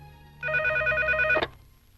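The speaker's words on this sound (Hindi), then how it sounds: "रिंग हो रही है।" A telephone rings once in a short electronic trill lasting about a second, close and clear, then cuts off into quiet room tone.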